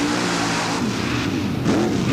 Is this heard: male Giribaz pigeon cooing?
no